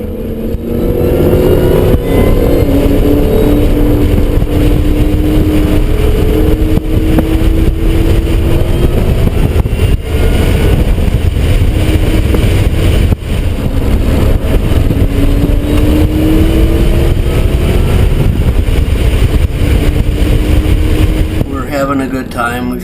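A 2003 Ford Mustang Cobra runs hard down a straightaway, its engine droning loud and steady throughout with rising pitch sweeps as it accelerates, while a person talks over it.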